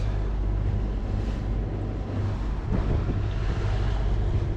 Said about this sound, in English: the wind is just going crazy